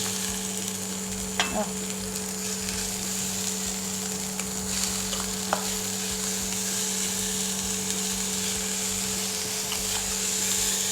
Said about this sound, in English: I stir fry, continue fry. Then I can add the carrot. And the turnip.